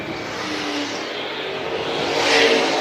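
Vintage race cars at Dillon, South Carolina, roar past in a steady, broadband engine drone that swells slightly toward the end, a sustained close pack of motors with no voices.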